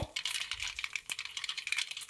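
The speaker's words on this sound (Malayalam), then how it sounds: "കടുക് പൊട്ടി വരട്ടെ." Mustard seeds popping in hot coconut oil for a Kerala brinjal thoran, a dense run of sharp crackles and spits close up, continuous for a couple of seconds with no voice.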